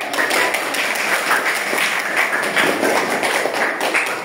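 Schoolchildren in a classroom clap their hands together in a dense, continuous burst of applause that stays steady and fairly loud for several seconds, with a faint murmur of voices underneath.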